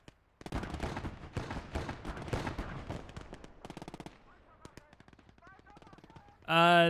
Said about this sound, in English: Really nice burst from our machine gunner